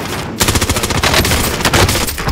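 Rapid automatic gunfire from a first-person shooter match, a dense burst of closely spaced shots running continuously after a brief quiet start, loud and near.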